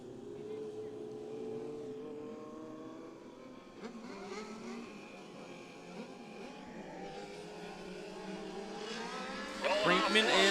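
HART NW micro sprint race cars starting a heat race at US 24 Speedway, engines droning and rising as the pack accelerates, a sharp louder burst at the end, under an announcer's running commentary.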